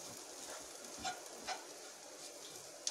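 Coarsely ground boiled black gram is stirred in a wok over a faint background sizzle, with a couple of soft scraping strokes from the spoon. The sound is quiet and close, and no one speaks.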